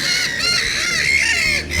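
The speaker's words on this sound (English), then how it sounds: "There are birds everywhere" Birds in Vondelpark in the evening, a loud, close chorus of honking and cackling calls that overlap continuously with no pauses.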